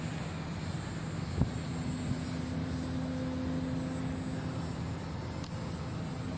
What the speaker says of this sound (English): It's ready. Ready to take off. That's a fast takeoff.